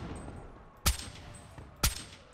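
Two sharp, loud gunshots from a gun in Call of Duty: Black Ops 3, about a second apart, each a sudden broadband crack, over a steady low background hum.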